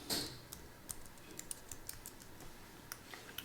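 Keys tapped on a computer keyboard in a burst of clicky strokes, one louder press at the start and then a fairly steady, close rhythm of lighter taps, with no talking.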